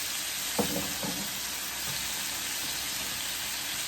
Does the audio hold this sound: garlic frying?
yes